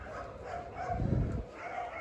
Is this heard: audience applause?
no